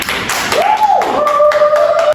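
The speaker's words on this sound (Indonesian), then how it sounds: "Beri aplaus dulu dong" Classroom applause, a burst of close, loud hand claps with overlapping taps and a voice sounding through the clapping before it stops abruptly.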